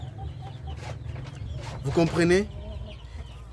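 A Goliath hen clucks briefly inside a henhouse, a short burst of close, harmonic calls standing out over low background noise, with someone speaking French nearby.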